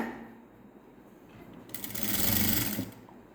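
A sewing machine stitches along the neckline of a net blouse, running quietly at first and then breaking into a louder, faster whirring burst near the middle, close by with no talk.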